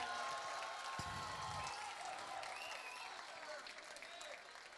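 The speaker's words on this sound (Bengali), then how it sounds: "আপনারা জোরে করতালি দেবেন।" An audience at a school prize-giving ceremony claps steadily for a few seconds, a dense patter that slowly fades, with a voice heard briefly near the start.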